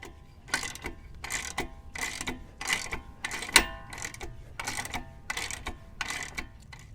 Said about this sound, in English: you're going to need a wrench and a socket to get this off